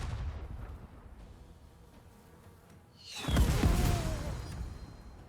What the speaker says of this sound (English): We're going to order the artillery strike in here